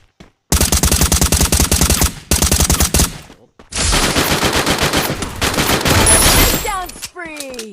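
Loud gunfire in a shooting video game, with long bursts of rapid automatic fire broken by short gaps, a sustained blast of shots, and a few whooshing effects at the end.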